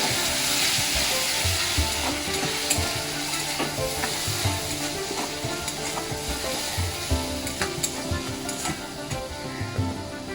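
Onion paste fries with about 750 grams of prawns in a pan, a close, continuous sizzle broken by frequent scraping and stirring knocks of a utensil against the pan.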